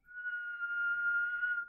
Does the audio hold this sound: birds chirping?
no